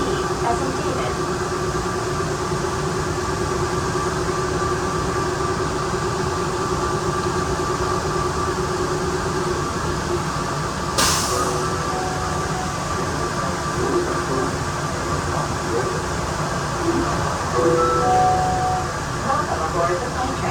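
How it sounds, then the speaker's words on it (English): Atlanta airport's Plane Train rolls between the B and D gates with a constant rumbling ride and steady electric hum, brief tonal beeps and a recorded announcement voice heard over it. "Welcome aboard the plane train. Please hold on."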